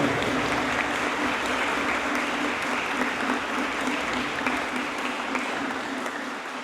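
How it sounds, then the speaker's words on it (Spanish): A congregation at a Christmas aguinaldo mass gives a strong, sustained round of applause in a church, dense clapping from many people continuing evenly and loud for several seconds. "le damos un fuerte aplauso, agradeciéndole a Dios por el regalo de la vida"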